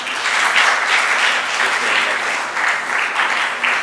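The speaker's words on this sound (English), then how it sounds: "Big round of applause." Loud, sustained applause fills a trade conference hall after a startup presentation, a dense, even wash of clapping with gentle swells and no break.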